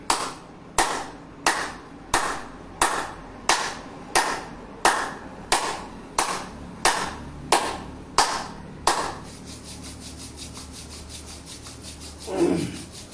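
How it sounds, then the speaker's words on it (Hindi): A person claps their palms together steadily during a wellness exercise, about thirteen sharp, close, even claps, then switches to rubbing the hands together in a soft continuous swish. "हथेलियां बजाएं, रोग को भगाएं।"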